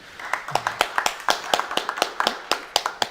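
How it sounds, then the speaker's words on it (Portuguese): A small group at a municipal council meeting gives a round of applause honoring the national flag: loose, fairly quick claps, each hand strike distinct, moderately close and unaccompanied by talk. "saudemos o pavilhão nacional com uma salva de palmas"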